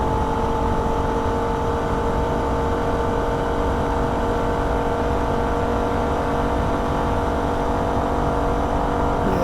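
A Holden VF Ute's engine screams flat out near the rev limiter in fourth gear on the Nürburgring, a loud sustained high-revving drone held steady for the whole stretch without a break.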